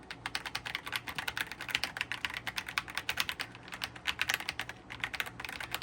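Rapid, even clacking of fingers typing on a Redragon K725 wireless mechanical keyboard, close and fairly quiet, keystrokes tumbling in a busy continuous rhythm with no voices.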